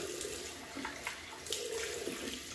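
Tap water runs steadily at low level while a shaving razor is rinsed, with a few soft splashes and clinks over the continuous flow.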